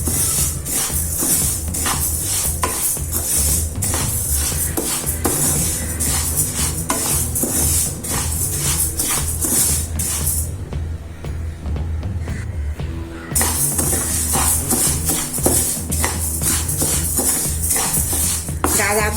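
Urad dal roasting on a low flame, stirred continuously in a pan: steady scraping and rattling strokes with a faint sizzle, close and rhythmic, with no talking.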